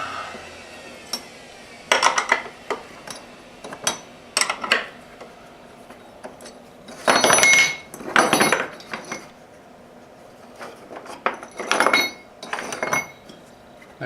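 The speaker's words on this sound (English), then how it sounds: "Remove these clamps." Metal clamps come off a CNC-carved banjolele neck in a workshop, with scattered clinks and clatters and a few longer scraping handling noises between quiet gaps.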